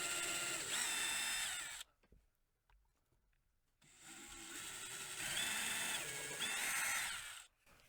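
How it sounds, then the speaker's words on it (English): A power drill whines at high speed in two long bursts separated by a quiet pause, pitch shifting as it bites into a guitar neck joint. "now we're going to drill this actually in the joint"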